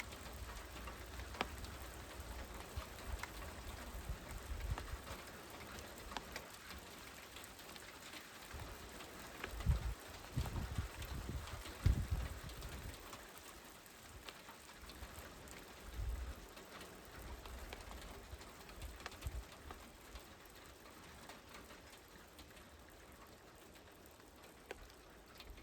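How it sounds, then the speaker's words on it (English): Steady rain falls throughout, a continuous close wash of drops on a surface with occasional heavier patters, alone with no voices. "the rain is coming down"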